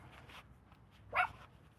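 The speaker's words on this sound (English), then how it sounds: "Can you hear that burk, burk dog?" A dog gives one short, sharp bark partway through, standing out clearly above a faint background hush with no other sounds around it.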